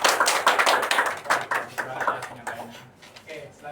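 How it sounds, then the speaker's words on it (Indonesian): A small group of classmates claps for a presenting team in a classroom, brisk uneven clapping that starts strong and thins out, with talk near the end. "Tepuk tangan dulu dong untuk kelompok 2"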